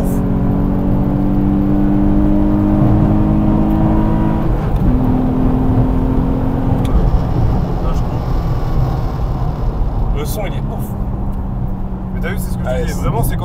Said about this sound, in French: Tu vois qu'il y a un gros moteur.